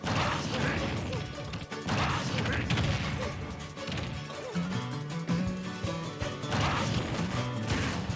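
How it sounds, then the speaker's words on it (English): A platform crumbles beneath Ganon on the Skyworld stage in Super Smash Bros Ultimate, a crashing, clattering break inside a dense, constant wall of game effects and music. "whenever you break the platform you're standing on"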